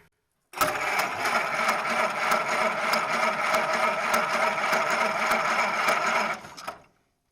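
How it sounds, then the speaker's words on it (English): A 1926 Ford Model T engine turning over as it is cranked, giving a steady mechanical whirring with regular rapid ticks that runs evenly for about six seconds, then winds down and stops. "I'm going to crank this engine over"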